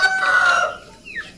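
Breeder chickens, hens and roosters, cluck loudly up close on a farm in a short burst, a drawn-out hen call followed by a quick higher squawk.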